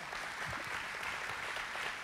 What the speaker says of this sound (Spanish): esto está para darle un aplauso al Señor